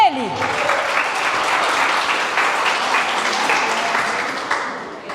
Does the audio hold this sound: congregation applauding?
yes